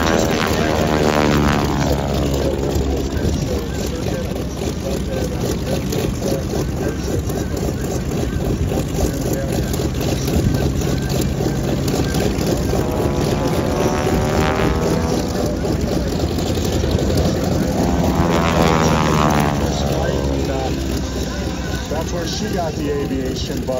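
A propeller airplane passes overhead at the Wings Over Camarillo airshow, its droning engine swelling and fading twice with sweeping Doppler tones over steady wind noise, loud and continuous.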